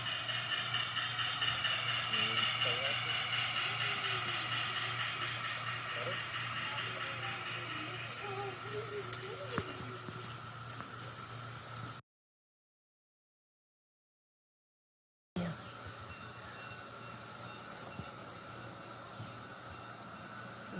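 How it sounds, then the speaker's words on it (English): A model train runs on a garden railway at Gabis Arboretum, Purdue University Northwest, Indiana, a steady mechanical running hum with rail noise over outdoor ambience, a brief dropout midway before it continues. "The model train here at the Gabis Garden, Purdue"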